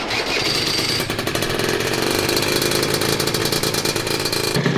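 A Honda Elite AF16 scooter engine with a newly installed carburetor runs loud and close, a rapid rattling idle with fast regular pulses throughout, then stops abruptly at the end.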